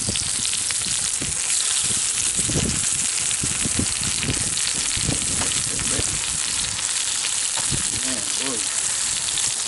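Tomatoes frying in hot oil in a pan give a loud, continuous crackling sizzle with dense popping throughout, close by, with no talk.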